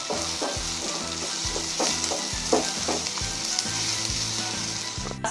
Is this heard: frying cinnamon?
yes